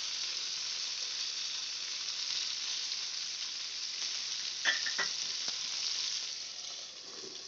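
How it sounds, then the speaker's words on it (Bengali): Stuffed eggplant slices fry in a pan with a steady, even sizzle of hot oil, a few soft clinks around the middle, easing slightly toward the end. "আমার ভাজা হয়ে গেছে বেগুন ভাজাটা, স্টাফ বেগুন ভাজা হয়ে গেছে"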